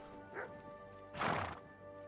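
A horse in a video game whinnies twice, a short call followed by a louder, longer neigh, over a steady hum of background music.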